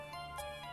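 An intercom in a horror video game rings insistently, a steady electronic chime with a repeating pulse, fairly quiet and heard without voices.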